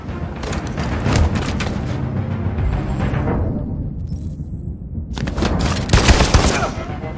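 Rapid, loud bursts of gunfire in Detroit: Become Human, a dense volley that breaks off briefly and then resumes with heavy thudding shots and booms.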